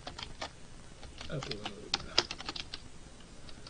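Typing on a computer keyboard into a browser: a quick run of light clicking keystrokes, close and fairly quiet, with a brief spoken word partway through.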